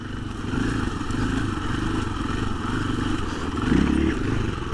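A 2024 KTM 500 EXC-F enduro dirt bike on stock ECU mapping rides over a boulder, its engine thrumming steadily up close with a brief louder surge and clatter as it pops over the rock.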